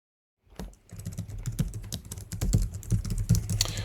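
Login credentials are tapped in on an iPad keyboard as a quick, irregular run of close, crisp taps lasting about three seconds, with no talk.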